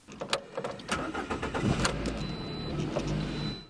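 A passenger car engine cranks with a few clicks and sputters, catches, and settles into a steady close idle, with no voices over it.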